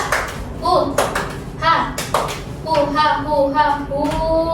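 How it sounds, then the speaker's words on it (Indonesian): Children in a classroom perform the 'tepuk rimba' clapping chant, with sharp hand claps in a patterned rhythm mixed with sung, chanted voices, close and lively. "Oke, kita tepuk rimba."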